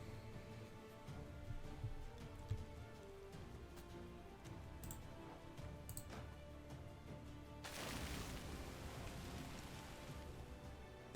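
In the Gwent card game, a rain card effect starts partway through as a sudden soft, broadband wash of falling rain, following quiet game ambience and a few light ticks.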